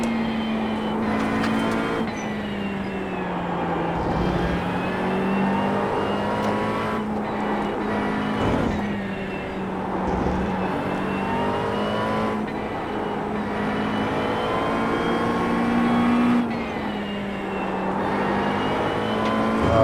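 A McLaren 720S GT3 engine screams at full throttle in the iRacing sim on The Bend GT Circuit, with sustained high revs, repeated gear-change dips and steady loud drone throughout, no talk.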